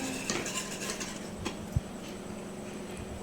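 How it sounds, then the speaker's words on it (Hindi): A whisk works through a thickening milk mixture in a cooking pot, giving faint, steady scraping with an occasional light metallic clink against the pot, quiet and close. "आपने विस्क चलाते रहना है"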